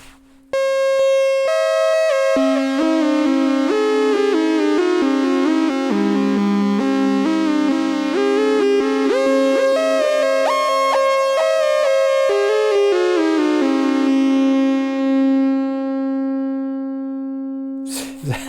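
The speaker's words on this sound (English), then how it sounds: "Hall reverb." A Behringer synthesizer plays sustained tonal notes and gliding pitches through a hall reverb effect, forming a continuous, loud, electronic wash that shifts pitch over about eighteen seconds before stopping abruptly.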